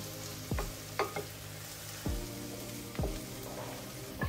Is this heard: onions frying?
yes